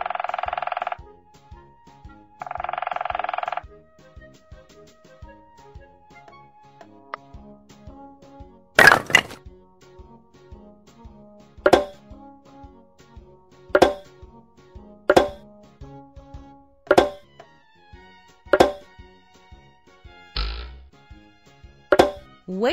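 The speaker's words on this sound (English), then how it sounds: "Woodpecker." A woodpecker's pecking comes as a string of sharp, isolated knocks spaced a second or two apart across a quiet background, with a couple of brief electronic tones near the start.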